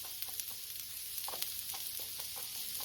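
Onion sizzles in a hot pan while smash burgers are being cooked, a continuous close frying hiss broken by light crackles and soft stirring ticks, with no voices.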